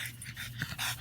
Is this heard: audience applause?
no